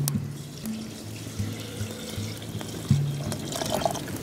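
Tap water runs into a pot, about a quart, a quiet steady stream with small clinks and splashes at the start and end, close and alone.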